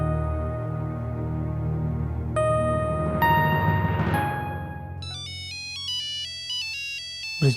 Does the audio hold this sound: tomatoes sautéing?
no